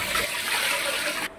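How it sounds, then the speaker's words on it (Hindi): Plain water pours into a pot with a loud, steady rushing splash that cuts off abruptly just before the end. "सबसे पहले हम नॉर्मल पानी डालेंगे"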